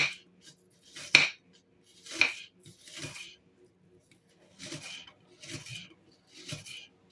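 Knife slicing a red onion on a board, a handful of short, scattered crunching cuts, close and fairly quiet, with pauses between strokes.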